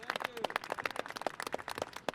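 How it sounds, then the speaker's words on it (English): Scattered hand clapping from a small audience at a mayoral bill signing, brisk irregular claps close by with a few people talking over them. "Again, a round of applause for everyone here."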